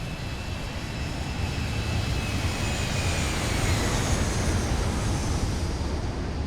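Constant loud droning roar of an airliner's engines in climbing flight in the X-Plane 11 flight simulator, a steady wash of engine and wind noise with a faint whine, no speech.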